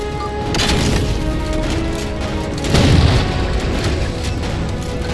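Deep booms and blasts in Halo 4 on PC as jammers are shot down, a sustained rumbling barrage with a heavier explosion burst near the middle.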